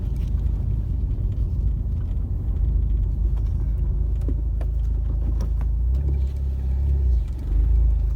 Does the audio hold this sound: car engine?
yes